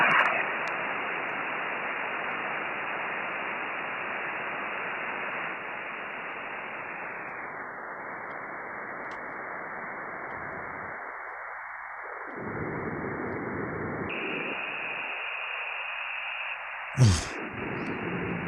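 Ham radio static hisses steadily while the receiver is tuned in search of a South African ZS5 station, with the noise dipping and shifting as the dial moves and a brief pop near the end.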